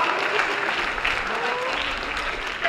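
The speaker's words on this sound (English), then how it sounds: "let's give a round of applause for Mr. Ponterero" Steady audience applause at a high school staff greeting event, a dense even clapping from a crowd throughout the short stretch.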